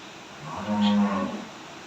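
A Friesian-type dairy cow lets out one clear, close moo lasting about a second, rising and then fading, with no talk around it.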